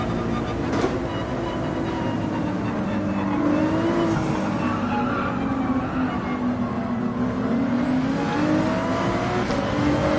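Porsche 911 revving hard in first gear in Gran Turismo 7, a steady loud engine drone with rising pitch sweeps, continuous throughout with a voice talking over it.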